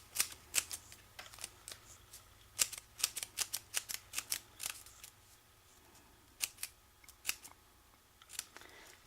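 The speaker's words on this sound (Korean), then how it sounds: "이렇게 해서 여러 겹을 겹쳐서 그냥 잘라 주시면 됩니다." Scissors snipping through several layers of folded paper for an origami flower, a quick series of crisp close cuts in bursts with short pauses between.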